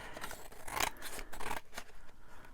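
Scissors snip through paper scraps at a craft table, a quick run of crisp rasping cuts with short pauses between them, close and clear with no talking.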